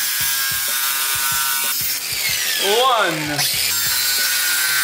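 Screws being cut off where they are fastened to a side scoop on a Honda Civic fastback, a high whining power-tool drone with rhythmic ticking, its pitch sweeping and bending mid-cut, while a voice briefly speaks.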